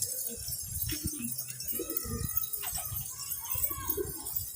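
Soft low pigeon coos repeat in short bursts nearby, with some rustling and faint clinking in the background.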